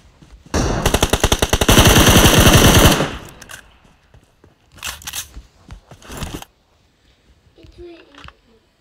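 Video game gunfire: a long, loud automatic burst of rapid shots, then scattered shorter volleys further back, with players talking over the action.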